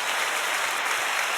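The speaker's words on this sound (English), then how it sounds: "Let's clap it up for that." An audience applauds, producing a dense, steady wash of many hands clapping together, loud and continuous for a short stretch.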